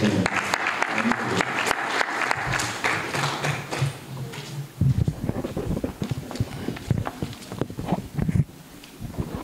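An audience at a novel dedication ceremony claps to welcome the author's father, a busy patter of hands in the first half that thins into scattered individual claps and taps, with some voices mixed in.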